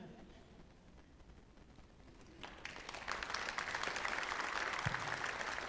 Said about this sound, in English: So I didn't think you were going to clap at that one.